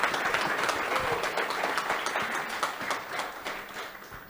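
An audience applauds at a panel discussion on water, a dense burst of many hands clapping loudly and close that fades slightly toward the end.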